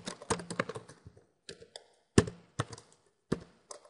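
Computer keyboard keys tapped in irregular bursts while entering C# code, close and crisp, with short gaps between clusters of keystrokes and no voices.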